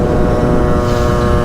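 Cold Derbi/Sherco dirt bike engine running in winter, a loud, steady, rough engine drone that fills the short stretch without pause, no speech.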